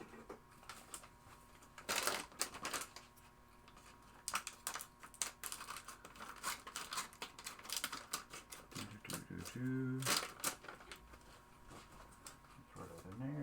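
Scissors cut open a sealed plastic bag holding a pinball power supply board, sharp plastic crinkles and snips close up, with voice in the background.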